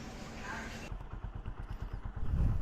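A motorcycle engine idling as it warms up, a low steady rhythmic putter close by, with a person speaking over it and rising rumble toward the end.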